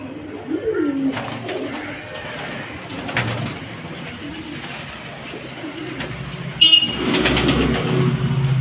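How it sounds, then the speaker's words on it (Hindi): Low pigeon coos murmur faintly through steady outdoor background noise, with a short car horn near the end. "ये देखिए आप कबूतर देखिए,"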